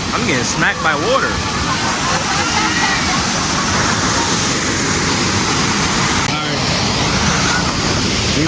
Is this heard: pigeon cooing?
no